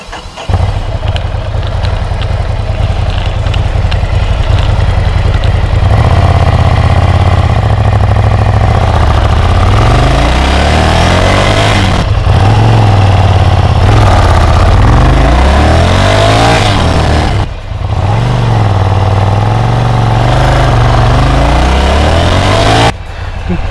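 A motorcycle launching from a standstill on rough, bumpy ground without launch control, its engine loud and close as it revs, rises sharply through several throttle bursts, drops briefly and climbs again across the whole stretch, with no talk.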